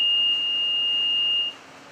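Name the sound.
intermittent evacuation alarm in cleanroom building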